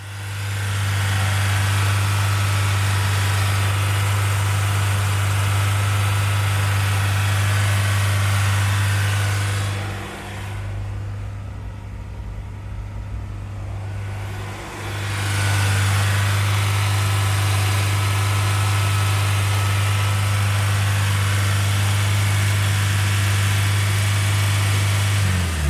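Honda S2000 AP1 engine running steady with a strong low hum, dropping to a quieter idle for several seconds midway, then returning to the higher steady speed, close and continuous without talk.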